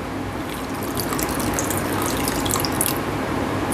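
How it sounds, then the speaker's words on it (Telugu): Lemon juice from six lemons pours steadily into a cooled batch of chicken pickle, a continuous close liquid splashing and trickling with no talk. "ఇప్పుడు మనం నిమ్మకాయ రసం వేసేద్దాం."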